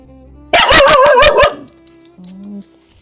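A dog barks in a quick run of about five loud, close barks, then quieter short sounds follow.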